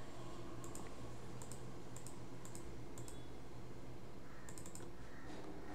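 Quick pairs of sharp computer mouse clicks while a line is drawn in QGIS software, spaced about once a second and then a faster cluster, over a steady faint background hiss.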